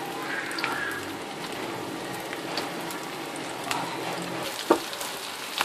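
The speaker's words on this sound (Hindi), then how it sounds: "अब हम एक एक करके इसमें अपने आलू की टिक्की जो है वो फ्राई करेंगे" Potato tikki fry in a little oil over low heat with a steady, soft close-up sizzle and crackle, broken by occasional small pops and spatters, with no voices.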